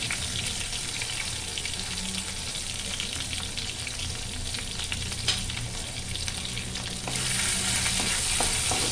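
Mixed vegetables with grated ginger sizzle and fry in a pan while being stirred, a steady close hiss with occasional scraping and clinks, no talk.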